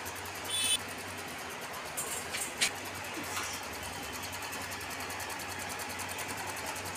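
A sewing machine stitching cloth, its steady mechanical whir running evenly through the whole stretch, with a few faint clicks and knocks early on and no talk.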